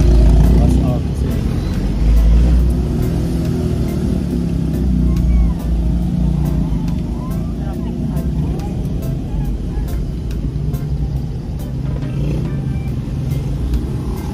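Heavy rush hour road traffic with cars and motorcycles, a dense, loud engine rumble and passing vehicles running continuously under a person speaking.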